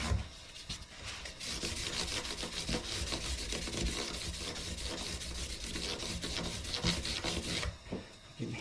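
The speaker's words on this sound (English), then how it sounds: "this doesn't hurt to be sanding the wood a little bit here with this 600 grit" Close, steady rubbing of 600 grit sandpaper over guitar frets and the surrounding fretboard wood, a continuous rasping scrape that runs without pause and stops briefly near the end.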